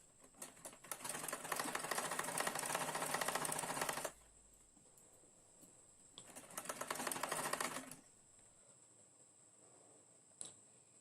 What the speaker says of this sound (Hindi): यहाँ पे हम सिलाई करके दोनों को हम अटैच कर लेते हैं,